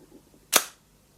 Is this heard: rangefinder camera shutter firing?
yes